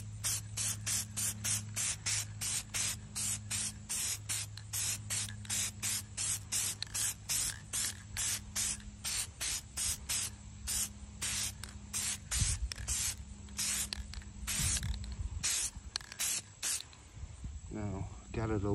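Rapid bursts of aerosol spray as a Hyperdip coating is applied to Honda wheels, roughly forty short hisses in a steady rhythm, close and loud over a low hum, with a few faint handling noises near the end.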